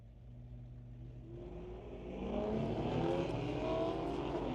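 Drag racing cars at the start line, a 2023 Charger and an S10 among them, with the engines rising from a low idle rumble into a loud, building roar as they launch, heard from some distance.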